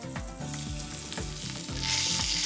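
A hamburger steak searing in a deep frying pan, its sides browning, gives a loud, dense, steady sizzle close up, with faint rhythmic tapping underneath and no voices.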